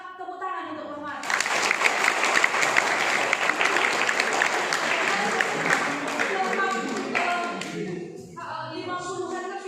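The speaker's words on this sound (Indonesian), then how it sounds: "Maka tepuk tangan untuk Permata." Loud crowd applause for Permata at an anniversary celebration of the GBKP church youth group, with children's voices in the mix, swelling after a moment of speech, holding steady for several seconds and then tapering into talk.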